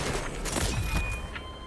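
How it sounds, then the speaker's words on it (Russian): A rapid cluster of muffled pops and crackling bursts of fireworks in the video game Deathloop, dense and continuous. "О, фейерверки вот каких-то."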